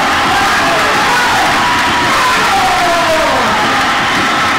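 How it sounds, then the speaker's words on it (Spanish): Crowd cheering and ovation at a baseball game between the Algodoneros de Delicias and Manzaneros de Cuauhtémoc, a loud, steady roar of many voices with whoops filling the whole stretch. "ahí está la ovación."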